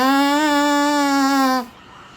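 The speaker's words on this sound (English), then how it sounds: "you can have the long ones that will make a deeper sound like this" A long drinking straw whistle cut to a beak sounds one sustained low reedy buzz, loud and steady for over a second before stopping abruptly.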